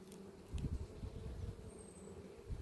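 Honeybees inside a hive drone in a continuous low hum, with soft rustling bumps scattered through it and no talking.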